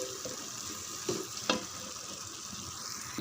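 Raw marinated chicken goes into sizzling masala in a pan for chicken biryani, a constant close frying hiss broken by a couple of brief bumps and splashes as the pieces drop in.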